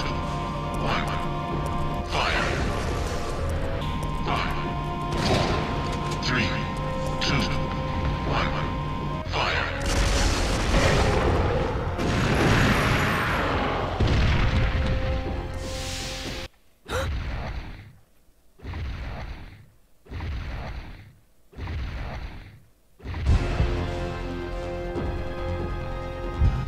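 Cannon fire in Resident Evil 3: Nemesis, a loud sustained roar with crashing impacts, then a series of about five sharp bursts separated by near-silent gaps, followed by another loud blast.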